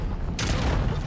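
An explosion bursts in the video game Avowed, a single sudden loud boom with a rushing crackle that hangs over a constant low background rumble.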